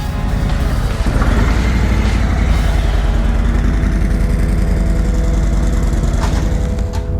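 A 2017 Harley-Davidson Street Glide Special with a Milwaukee Eight 107 V-twin engine runs close by, a loud, steady, throbbing low rumble holding at idle throughout with no speech.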